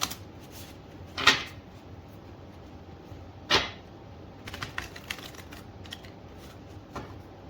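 Two crisp riffles of cards being shuffled, followed by lighter scattered taps and shuffling, all close by with no talking.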